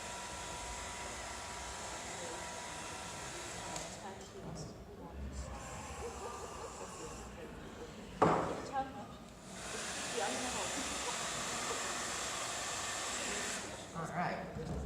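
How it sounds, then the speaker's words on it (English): A hair dryer blows with a steady, breathy whoosh on a styled wig, pausing briefly a few times and catching a sharper rush of air midway. "you need to immediately harden it with the hairdryer"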